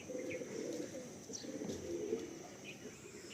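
Andhra pigeons cooing in a loft, a low steady murmur of several birds close by with a few faint higher chirps over it, continuous through the clip.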